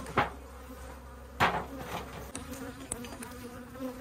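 Bees buzz inside an opened hive while it is being split into nucs, a continuous close drone punctuated by a few sharp knocks and clicks of handling.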